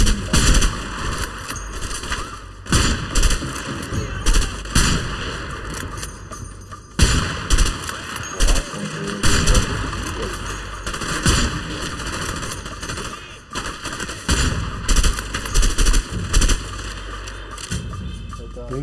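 Gunfire in the video game A Way Out during a sniper-rifle fight, with repeated loud sharp shots and booms over a dense game soundtrack, mixed with in-game voices talking.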